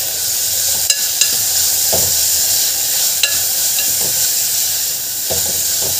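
Carrots, cauliflower and chillies sautéing in a pan for a clear vegetable soup, a steady sizzle running throughout with a few sharp clicks of stirring spaced across the stretch, close and moderately loud.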